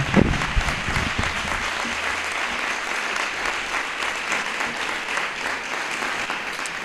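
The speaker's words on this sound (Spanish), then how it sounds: "Un aplauso para él." Audience applause at a school's twentieth-anniversary gala, a steady wash of many hands clapping that swells at the start and then holds evenly throughout, fairly close and loud with no talk over it.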